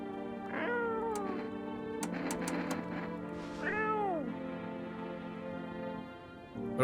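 A cat in a horror video game meows in several drawn-out, wavering cries over a steady background hum, loud and close with a brief chirp in between, and no one talking.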